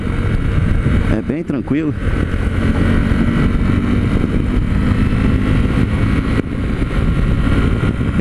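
A Honda Sahara 300 motorcycle runs steadily under throttle while riding on good asphalt, with loud wind noise over the engine drone and someone talking over it.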